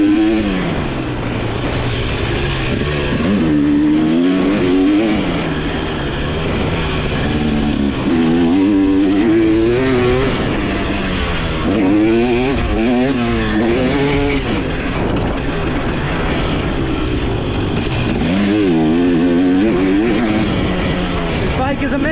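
A 2023 KTM 300 XC TBI dirt bike rides a turn track, its engine loud and close as it revs up and drops back again and again through the corners.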